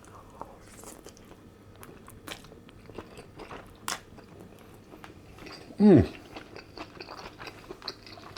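Someone eating pork chow mein with noodles, pork and vegetables, with soft close chewing, scattered crunchy bites and faint utensil scrapes, and one louder scoop or slurp near the middle, in an otherwise quiet room.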